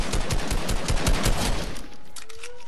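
Rapid automatic gunfire from the video game Fortnite rattles in a dense burst, then cuts off into a quieter tail with a faint tone, no voices.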